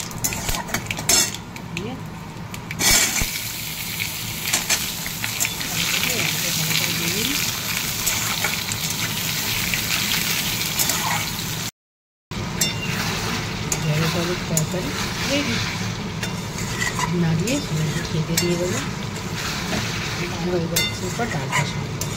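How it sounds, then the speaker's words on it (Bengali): Potatoes and okra frying in a pan, with a loud continuous sizzle and frequent metal utensil scrapes and clatter, a short gap midway, and a voice talking at times over the cooking noise. "আলু ঢেঁড়সটা ভেজে নিই"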